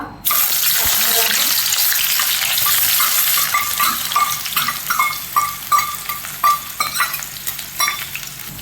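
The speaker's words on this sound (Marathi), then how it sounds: "कढईमध्ये तेल गरम झालेलं आहे आता आपण त्या तेलामध्ये एक बारीक केलेला कांदा" Chopped onion drops into hot oil in a kadai, a sudden loud hiss that settles into steady frying, later punctuated by rhythmic scraping and clinking stirs of a spatula against the pan.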